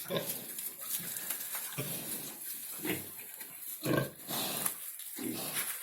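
Pigs in a farm pen, a sow with two-day-old piglets, giving repeated low grunts in short irregular bursts, close by with a light background murmur.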